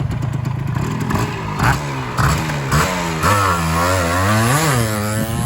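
A motorcycle engine revs hard in rising and falling bursts during a gear test on a used bike that idles quietly. It sounds loud and close, with no talking.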